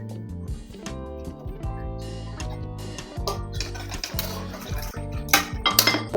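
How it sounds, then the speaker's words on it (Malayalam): Masala mixture of onion and half a tomato, sautéed until soft, is poured into a Kerala-style chickpea curry. Pot and utensil clinks and a busy sizzling, stirring clatter fill the clip, with a few sharper metallic clinks near the end. "നമ്മളിത് കടലക്കറിയിലേക്ക് ഒഴിക്കുകയാണ്."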